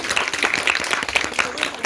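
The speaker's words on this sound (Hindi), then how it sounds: "एक बार फिर से जोरदार तालियां।" Lively audience applause follows a girl's dance performance at a hostel Dussehra celebration. The clapping is dense and close throughout, with a voice talking over it.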